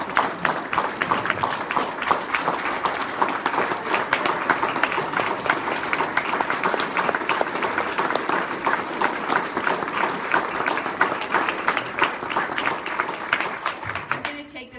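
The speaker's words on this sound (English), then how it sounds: "Let's give her a round of applause." Sustained applause from a crowd, dense clapping that holds steady for the whole stretch before tapering off at the end.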